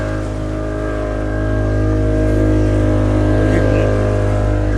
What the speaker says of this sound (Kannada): ಈಗ ನಾನು ಬೋಟ್ ಓಡಿಸೋದಕ್ಕೆ ಹೋಗ್ತಾ ಇದ್ದೀನಿ.